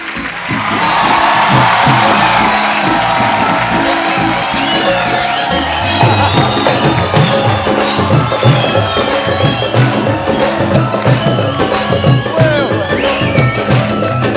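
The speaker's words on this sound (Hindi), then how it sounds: "जोरदार तालियां एक बार मान साहब के लिए" A studio audience on the Kapil Sharma Show cheers and applauds loudly for Mann Saab in a dense, sustained roar, with whoops rising above the crowd throughout.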